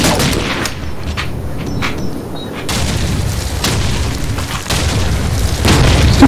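Grenade blast in the Call of Duty 2 multiplayer Battle of Carentan, a heavy booming detonation amid ongoing gunfire and battle noise, loud and dense throughout.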